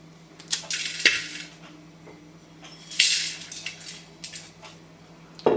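Cooking pot handled as Maggi noodles are tipped in: scattered metallic clinks and dry rattles of noodle cakes dropping, with a sharp knock near the start and another burst at the end, no talk.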